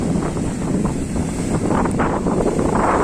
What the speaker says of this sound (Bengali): প্রচুর উত্তাল রয়েছে সমুদ্র আজকে তার সাথে কিন্তু প্রচুর বাতাসও হচ্ছে